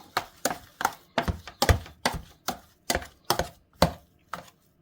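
Steady rhythmic thuds of a masher pounding boiled potatoes with a little flour and no water in a pot, about a dozen close, firm strokes with brief pauses between them.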